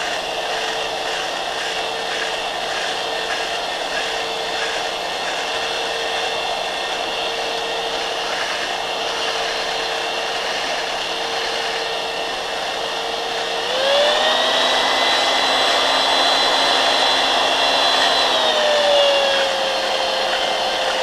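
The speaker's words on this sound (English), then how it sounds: "So what I have here is my drill with my barrel brush chucked up" Power drill spinning a barrel brush inside the chamber of a Mosin Nagant rifle to clear dried cosmoline, a steady close whine that rises in pitch and grows louder for several seconds before dropping back.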